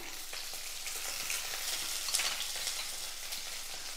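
Small shallots and chopped onions fry in a pan for a chutney, giving a steady, crackling sizzle with soft stirring noises, heard close and alone.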